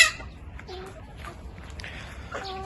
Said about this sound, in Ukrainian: кури я вже випустив, вони доїдають трішки